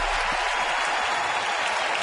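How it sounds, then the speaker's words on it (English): Baseball fans in the stands applaud pitcher Millwood at a Toronto at Baltimore game, a steady wash of clapping and crowd noise throughout the short stretch. "Fans applauding the performance of Millwood."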